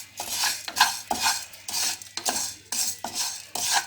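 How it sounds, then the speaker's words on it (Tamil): Urad dal dry-roasting in a hot pan for murukku, a spoon scraping and stirring it in a steady series of rhythmic, close strokes, with no talking. "அதே மாதிரி ஒரு பாத்திரத்தில் சூடு பண்ணி வறுத்துக்கணும்"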